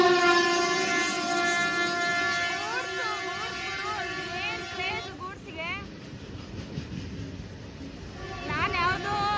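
A goods train sounds its horn repeatedly while passing at speed, a series of loud, wavering harmonic honks over the rumble of rolling wagons, heard from aboard another train.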